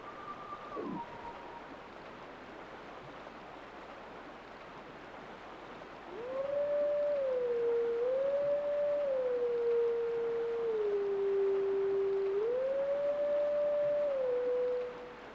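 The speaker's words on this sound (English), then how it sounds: "Now listen closely to the Howling Stone music." Howling Stone melody from the game Zelda: Twilight Princess, a single sustained, wavering whistle-like tone gliding between a few pitches over a steady windy background, clear and alone without talk.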